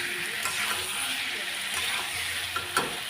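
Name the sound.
boiled potatoes sautéed in pan for aloo dum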